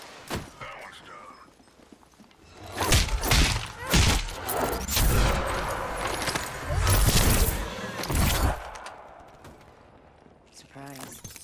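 Gunfire in the video game Apex Legends, with loud bursts of rapid shots clustered through the middle and quieter stretches before and after, heard up close over game ambience.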